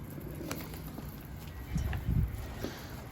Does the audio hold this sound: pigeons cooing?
yes